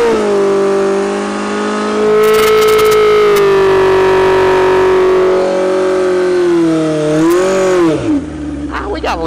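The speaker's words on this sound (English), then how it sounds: "you can't go for a ride on a 7-second bike without making a run" A street-legal 7-second drag motorcycle accelerates hard on a run, its engine roaring loudly and continuously with strong tonal harmonics that climb steadily, then dip and surge again near the end as it shifts.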